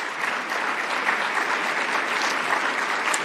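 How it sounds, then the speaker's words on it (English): An audience at the 2024 IHSA speech individual events state finals gives a steady, full round of applause, many hands clapping evenly throughout with no voices above it. "let's give a big round of applause to all of them and our state final manager"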